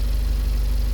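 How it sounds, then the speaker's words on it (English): A Mazda Miata NC idling with a Yonaka axleback exhaust and an exhaust leak, a steady close low rumble with a faint rhythmic puffing throughout, no voices. "I thought maybe one spacer would get rid of that exhaust leak sound. It doesn't."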